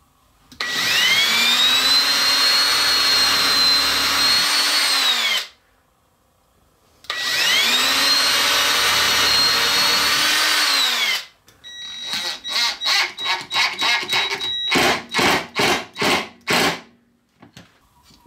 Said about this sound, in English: I'm not really liking the way this is holding together with just glue. So I'm gonna add screws.